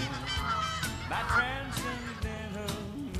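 Geese honking by a pond during a bass fishing outing, repeated loud nasal honks overlapping in a noisy cluster close by.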